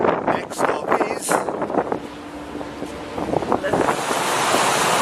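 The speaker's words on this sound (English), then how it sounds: "And we're in a gale force 8." Gale force 8 wind roaring over heavy waves on the Arabian Sea, with broadband rushing surf and wind buffeting the microphone, rising steadily louder toward the end.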